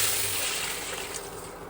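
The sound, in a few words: water poured from a bowl into a pan for sugar syrup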